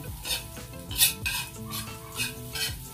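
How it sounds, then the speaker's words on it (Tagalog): Garlic browning in oil in a pan, with repeated stirring strokes and light utensil clinks against the pan over a faint sizzle, while a tonal background hum or music runs underneath. "try natin mag-brown muna ng yung bawang bago natin lagay yung sibuyas at sibuyas."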